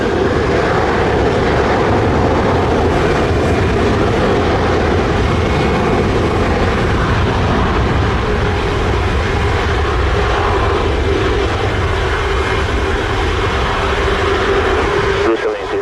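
An American Airlines jet taking off from runway 07 at Montego Bay, Jamaica, makes a loud, continuous, broadband engine roar that holds steady throughout.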